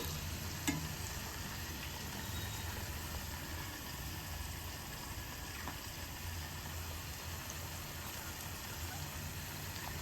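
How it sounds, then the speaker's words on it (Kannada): Okra (bhindi) frying in a pan, a steady dense sizzle running throughout at moderate level with a faint low hum beneath and no talk. "ನೋಡಿ ಇವಾಗ ಸ್ವಲ್ಪ ಫ್ರೈ ಆಗ್ತಾ ಇದೆ"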